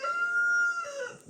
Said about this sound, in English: the rooster wanted to say good morning too.